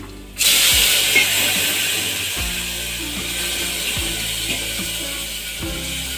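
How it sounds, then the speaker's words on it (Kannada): Cooked avarekalu (field beans) hit hot turmeric tempering for sambar with a sudden loud sizzle that settles into a steady hiss, punctuated by a few soft clinks of a spoon against the pan. "ನಾನು ಈಗ ಬೇಯಿಸಿ ಇಟ್ಕೊಂಡಿರೋಂಥ ಕಾಳು ಎಲ್ಲನೂ ಒಗ್ಗರಣೆಗೆ ಹಾಕೋತೀನಿ"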